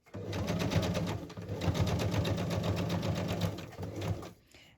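A sewing machine stitches fabric embellishments in rapid bursts, a close, rhythmic mechanical whirring and clatter with a brief slowdown partway through before it winds down and stops.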